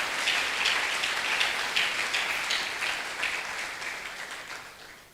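A church congregation breaks into sustained applause, dense and fairly loud at first, then gradually thinning and fading toward the end.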